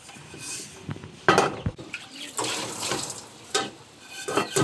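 Tap water runs into a cooking pot during scrubbing and washing at a sink, with splashing, clinking of the pot, and a few louder bursts; voices talk faintly in the background.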